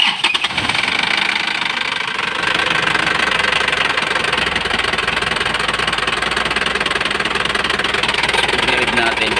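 Isuzu 4JB1TC diesel engine cranking and catching, then running with a rough, steady knock, loud and close, with a voice talking over it.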